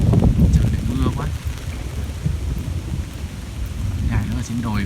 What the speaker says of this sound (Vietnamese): Trời lại mưa quá.